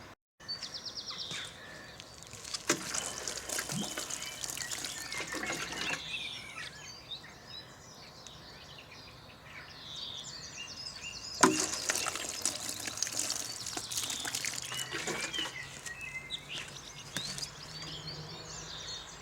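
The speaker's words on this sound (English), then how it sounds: "I'm going to give them a water, a little bit dry" Water poured over dry potted plants, a soft trickling splash in two longer bursts with quieter dribbling between, faint birdsong in the background.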